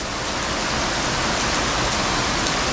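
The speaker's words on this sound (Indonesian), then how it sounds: "hujannya deras banget ternyata" Heavy rain pours down in a forest, a dense, loud and even hiss of drops hitting leaves and ground with no letup and no voices.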